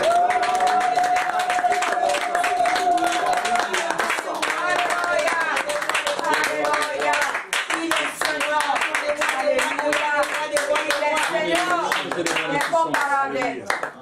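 A worship congregation claps in a steady, rhythmic beat of sharp hand claps, with a singing voice carrying a melody over the clapping throughout.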